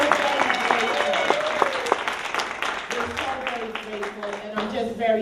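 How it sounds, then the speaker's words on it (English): An audience at a college event claps in a lively round of applause, many hands close and steady, with voices talking over the clapping. "will we all just give her a hearty round of applause?"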